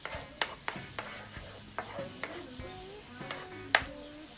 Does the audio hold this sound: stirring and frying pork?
yes